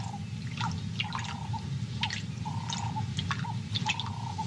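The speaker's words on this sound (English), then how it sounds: "arrives at the water and takes a long, cool drink to wash down another huge meal during this time of plenty." A lioness drinking at a pool in the wild: soft, rhythmic lapping and dripping laps repeat steadily, close and fairly quiet over a constant low outdoor background.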